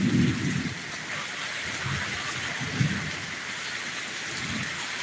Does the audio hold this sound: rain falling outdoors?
yes